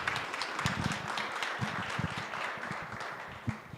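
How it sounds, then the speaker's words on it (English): Applause for a guest speaker at a campus talk on textbook costs and open educational resources, a fairly quiet, steady patter of many hands clapping from a modest audience, with a few sharper claps standing out near the end. "So if everyone could give me a round of applause for Amanda Langdon here"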